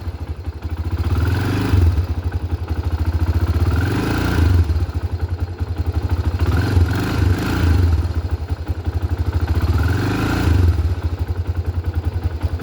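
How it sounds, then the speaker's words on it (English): Honda 300ex ATV engine idling while warming up, with steady low putter and periodic throttle blips every couple of seconds, close and loud throughout. "So just to warm it up, you can give it a little throttle here and there"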